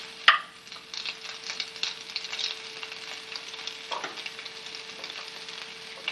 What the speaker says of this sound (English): Saute some onions, and of course garlic.